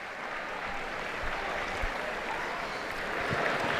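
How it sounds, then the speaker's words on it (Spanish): Pilgrims and faithful in the Paul VI Hall applauding the arrival of Pope Leo XIV at a general audience, a dense, even wash of clapping heard from some distance, steady throughout. "escuchamos pues a todos los peregrinos y fieles el gran aplauso por su llegada"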